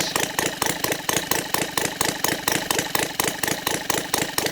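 A Saito 450 model engine converted to gasoline with CH ignition runs steadily close by with a fast, even chugging rhythm and no voices.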